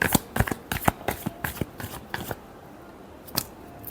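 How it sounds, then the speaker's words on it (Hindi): Tarot cards being shuffled close up in a quiet room: a quick run of crisp riffling bursts for about two seconds, then a pause and one last short shuffle. "last shuffle,"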